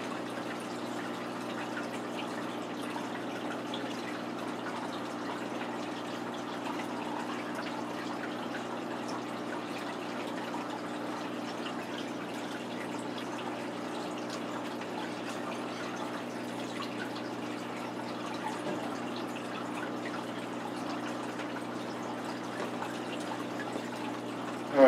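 Water draining out of a 125 gallon planted aquarium through a hose, a steady, faint rushing trickle that holds unchanged and uninterrupted throughout, with no voices.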